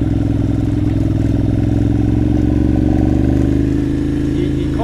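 A Ducati Monster 796 climbs a steep hill in first gear with a loud, close, steady engine drone that rises slightly in pitch as it pulls, with a rider speaking over it.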